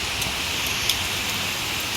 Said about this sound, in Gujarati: ફૂલ વરસાદ આવે છે અત્યારે.